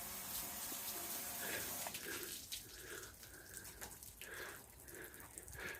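Water from a tap or hose runs steadily over a waxed test panel during a detailing test, a continuous soft hiss with faint splashing and dripping throughout.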